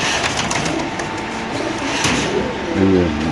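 Pigeons at a pigeon club's sale, cooing in low rolling phrases that swell near the end amid a busy background, with people talking nearby.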